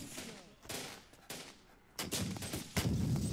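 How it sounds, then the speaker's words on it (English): Sniper gunfire in the Syrian Warfare video game: loud, booming shots crack out one after another at irregular intervals, each leaving a rumbling tail, with battle noise in between. "Sniper team is already opening fire on the mortar crews"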